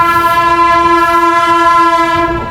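A passing train near Tundla sounds a loud, steady horn at close range, holding one sustained tone for a couple of seconds over a low rumble, with no voices.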